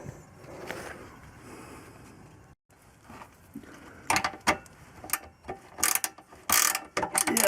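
Bolts being wound into the rear end assembly of a Lotus Excel with a ratchet, giving quiet clicking ratchet strokes that grow into sharper, louder bursts of clicks toward the end.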